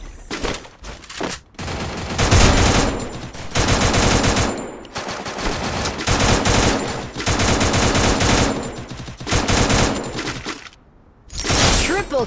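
Loud machine gun bursts ring out in a shooter video game, several long rapid volleys separated by short pauses.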